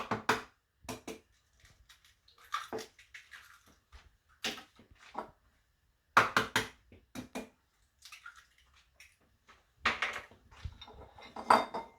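Six eggs going into pancake batter, heard as sparse clinks and knocks of shells on a bowl and dishes, with quiet gaps between sharp taps.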